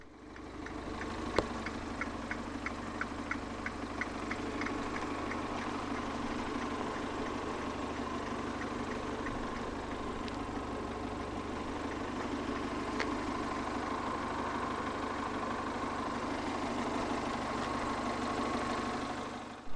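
A 2016 Abarth 595 Turismo engine idles steadily and evenly at a moderate distance, with a constant low hum and no talking.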